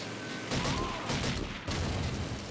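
Gunfire in the video game Call of Duty 2 comes as loud, close bursts of shots with booming impacts, repeated several times over steady background noise.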